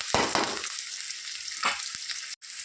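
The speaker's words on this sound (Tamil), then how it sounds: "எல்லாம் கொஞ்சம் நல்லா வதங்கின பிறகு கட் பண்ணி வச்சுக்க தக்காளி சேர்த்துக்கிறேன்" Chopped tomatoes frying in a pan with dried chillies and curry leaves, a steady close sizzle with a few louder stirring scrapes and splutters near the start and midway.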